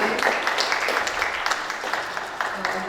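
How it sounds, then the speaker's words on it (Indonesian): An audience at an Indonesian karawitan performing-arts seminar session claps steadily throughout, a dense, even wash of many hands applauding with a faint voice underneath. "kita beri tepuk tangan"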